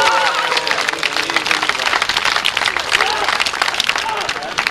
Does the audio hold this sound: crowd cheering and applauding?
yes